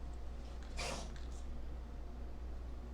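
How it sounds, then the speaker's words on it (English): A single short, breathy sneeze from a congested cat, quick and fairly soft, then steady low background hum. "The cat is sneezing and the bird is going nuts."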